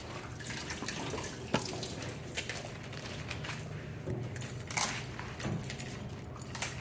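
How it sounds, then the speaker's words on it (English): Bok choy being washed under a running kitchen tap. Water splashes and patters steadily and fairly close, with small clinks and rustles as the leaves are handled. "we're going to wash off the excess dirt or the excess soil"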